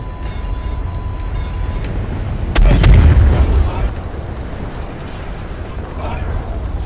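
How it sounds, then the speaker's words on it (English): Flare trap firing in Star Citizen, a single sharp burst followed by a roaring whoosh lasting about a second, over low cockpit hum, with a synthetic voice calling out briefly beforehand. "Fire. Flare trap."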